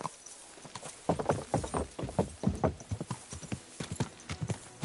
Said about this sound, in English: Watch out with that horse!